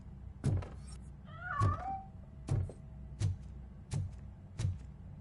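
A cat in Robocop: Rogue City gives one clear meow amid a series of regular dull thumps, close and moderately loud, with no voices.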